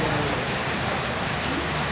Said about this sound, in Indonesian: Hujan ya? Jangan pikirkan hujan, makan aja dulu.